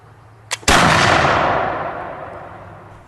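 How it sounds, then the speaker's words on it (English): A .75 caliber Brown Bess musket fired outdoors: a brief pan flash snap, then one loud, close boom that rolls away in a long fading echo over several seconds. "What I have in my hand is a 75 caliber Brown Bess musket."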